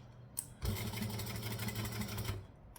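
A sewing machine stitches vinyl in one steady, close, continuous run of fast mechanical chatter lasting about two seconds, with a brief click before it starts, no speech.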